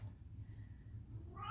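A house cat, testy near dinner time, lets out a single short meow at the very end over a faint low indoor hum.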